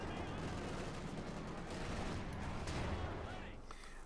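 Anti-tank gun fire hitting a tank in a Company of Heroes 2 battle, heard as continuous distant gunfire and heavy impacts under a busy, dense battle din.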